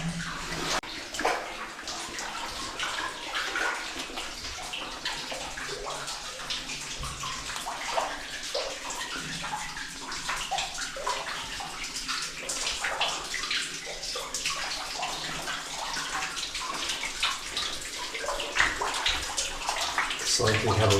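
Water flowing over a small dam inside an abandoned copper mine, a steady splashing gurgle close by that fills the space, with occasional brief voices under it.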